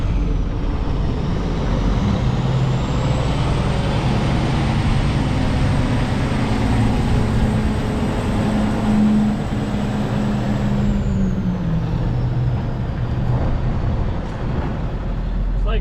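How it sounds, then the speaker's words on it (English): A truck engine rumbles at a loading site in Amish Country, Pennsylvania, a loud close idle whose pitch rises and falls as it revs, with a brief hiss near the end like an air brake release. "We got another truck here loading now"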